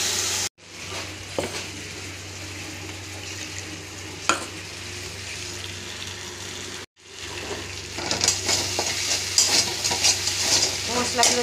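A ground paste of cashew, melon seeds, ginger and yogurt fries in hot oil, giving a steady close sizzle with occasional stirring scrapes and a brief cut partway, louder and crackly toward the end.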